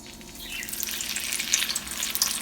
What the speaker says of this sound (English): We'll rest it directly into the pan of oil. We're going to let these things fry nice and crispy.